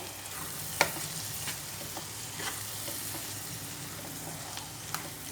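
An onion egg fries in a pan, giving a soft steady sizzle with occasional small clicks of a utensil, fairly quiet and continuous with no talking.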